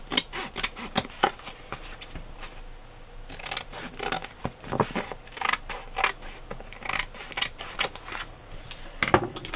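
Scissors snip and trim paper for a glue book, sharp close cuts coming in quick irregular bursts with brief rustling and handling noises between them, no voices.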